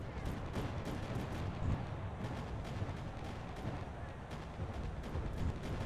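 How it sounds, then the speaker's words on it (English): Airstrike pounding the ground in Mecha Knights: Nightmare, a constant rolling thunder of artillery-like explosions and gunfire-style cracks, loud and unbroken with repeated heavier thumps. "Airstrike."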